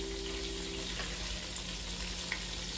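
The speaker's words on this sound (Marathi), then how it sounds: "ताटावर पाणी घालणार आहे." Water is poured onto a steel plate set over a pan of stuffed brinjal on the stove, giving a steady, close hissing splash that runs evenly through the whole moment.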